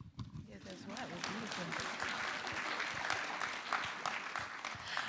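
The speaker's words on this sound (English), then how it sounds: "oh, you're getting some applause" Audience applause during a panel talk on Black history, with a crowd clapping in a quick, continuous patter at moderate distance while a speaker keeps talking over it.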